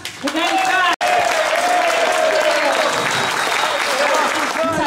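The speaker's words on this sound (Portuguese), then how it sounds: "uma salva de palmas, Mano Cass!" An audience at a cultural debate event applauds to welcome a speaker, with loud continuous clapping and voices or cheering mixed in, broken briefly by a sharp cut near the start.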